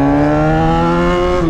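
A Yamaha XJ motorcycle engine held at a loud, sustained rev with a strong buzzing tone that rises slightly, then dips near the end, recorded very close with no talking.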